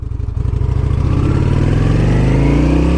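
A 2008 Honda Shadow 750 motorcycle engine pulls away on a test ride, its low, steady rumble rising in pitch as it accelerates, loud and close throughout with no talking.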